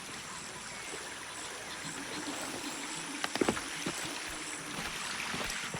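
Steady flowing water, a continuous stream-like rush in Shadow of the Tomb Raider, powering a bridge; constant and moderately loud, with a few brief knocks and clicks near the middle.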